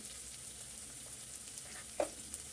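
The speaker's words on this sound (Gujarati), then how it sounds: "મસાલો સરસ ફ્રાય થઈ ગયો છે" Spiced masala fries quietly in hot oil in a pan for vada pav filling, with ginger-chili paste, curry leaves and asafoetida among the ingredients. A soft, steady sizzle runs throughout, with one brief clink near the end.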